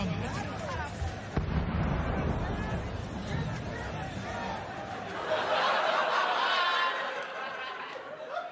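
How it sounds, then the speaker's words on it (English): A sharp blast cracks out early, followed by more rumbling bangs while a crowd murmurs and someone speaks over the scene. "When that happened, several explosions happened nearby"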